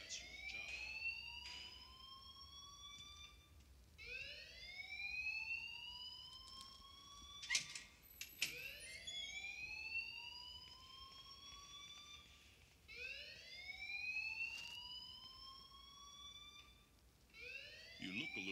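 A fire alarm blares in the Life is Strange video game, its rising electronic whoops repeating every few seconds at steady volume, with background game sounds mixed in.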